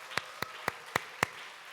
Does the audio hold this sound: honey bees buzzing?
no